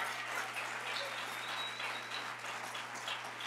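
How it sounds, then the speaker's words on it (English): Audience at an urban design awards event claps steadily and fairly quietly throughout, a dense patter of hands with a faint steady hum underneath. "So we're going to start really quietly clapping."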